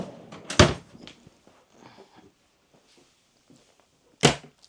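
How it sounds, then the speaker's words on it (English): File drawers in a 2008 Country Coach Magna motorhome shut by hand: two sharp, close thuds, one near the start and one near the end, with quieter rustling and knocks between. "I'm going to use my hands to close those and not my feet, Louie."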